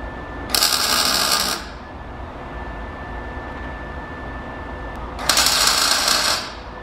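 Two short bursts of MIG tack welding fix a part in place, each a loud, crackling hiss lasting about a second, separated by a quiet pause, with no talking.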